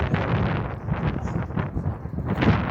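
Wind buffets the microphone in heavy, uneven low rumbles and gusts that continue throughout, beside the Al Layyah Canal in Sharjah at night.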